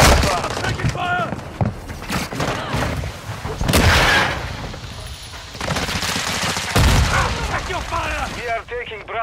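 Gunfire and explosive booms in the video game Call of Duty: Modern Warfare II, dense bursts of shots and blasts over a busy multiplayer battle, with voice lines heard among the fire.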